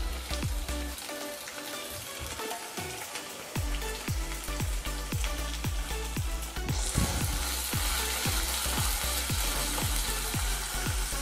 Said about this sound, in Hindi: अब इसके अंदर हमें अदरक लहसुन मिर्ची जो कट किए हैं इसे ऐड करते हैं